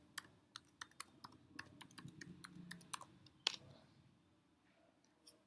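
Keys on a computer keyboard are tapped in a quick, irregular burst of close, crisp clicks, followed by one sharper keystroke and a few scattered final taps in a quiet room.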